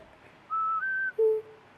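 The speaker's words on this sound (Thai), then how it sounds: "อ๋อนี่เป็นเสียงผิวปากนะ" A short whistled tune from the Sprunki video game: three clean, bright tones, two higher notes held in succession and then a lower, slightly longer note, heard clearly with nothing else over it.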